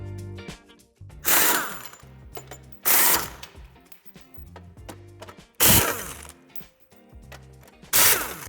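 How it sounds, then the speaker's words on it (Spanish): A power screwdriver removes screws from the metal bumper reinforcement of a 2016-2019 Audi A3 8V sedan, with four loud whirring bursts separated by quieter clicks and ratcheting handling noises. "Quitaremos el refuerzo metálico con 4 tornillos a ambos lados."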